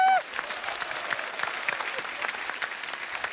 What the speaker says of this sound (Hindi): क्या इनके लिए जोरदार तालियां है